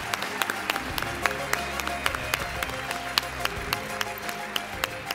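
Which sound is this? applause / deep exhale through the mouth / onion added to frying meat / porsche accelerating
applause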